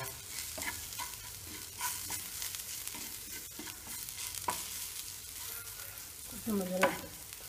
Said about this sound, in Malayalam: കുറച്ച് മഞ്ഞൾ കുറച്ച് സവോള ഇഞ്ചി വെളുത്തുള്ളി കറിവേപ്പില വഴറ്റി